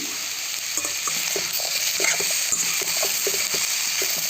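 Ridge gourd frying in a pan with cumin, a continuous close sizzle broken by light stirring taps and scrapes, no talking.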